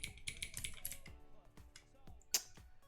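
Git commands are typed on a computer keyboard as a quick, uneven run of close key clicks, bunched at first and then spreading into scattered single presses, one sharper keystroke standing out near the end.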